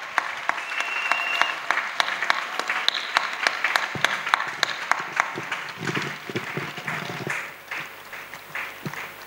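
Congregation clapping at an evangelism service, sharp individual claps in a rhythmic, uneven stream, loud and close, thinning toward the end with scattered voices underneath.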